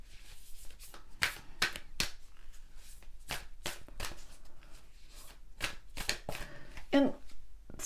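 Tarot cards being shuffled and drawn during a career reading, a series of crisp, close riffles and snaps in an uneven rhythm, with a louder slap near the end.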